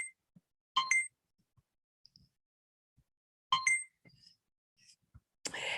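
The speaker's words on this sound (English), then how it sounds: "That was our timer making sure that we started on time" A timer alarm rings in two short bursts of bright metallic chiming, a few seconds apart, in an otherwise quiet room with faint rustles.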